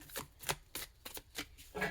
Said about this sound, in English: the Angel Tarot, which is the deck I'm shuffling right now